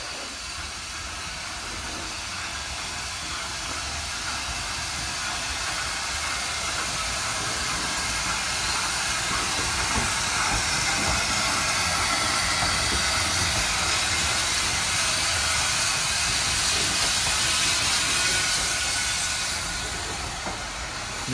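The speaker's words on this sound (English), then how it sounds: "there's a steam train pulling in" The steam locomotive Jennifer, built by S. Fox & Co Ltd, rolls into Matlock station in Derbyshire with a continuous loud hiss and rumble, building slightly and then easing off near the end.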